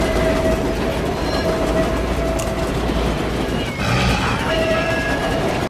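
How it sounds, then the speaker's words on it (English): A train passes by outside, a steady loud rumble with rail clatter that runs through the whole stretch and swells slightly near the end. "there's a train coming by, drowning out all the screaming"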